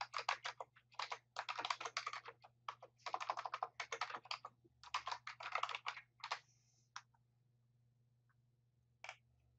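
Keys clatter on a computer keyboard as a sample command is typed into a notebook, bursts of quick taps for about six seconds, then a pause and a couple of isolated final keystrokes, close and fairly quiet over a low steady hum.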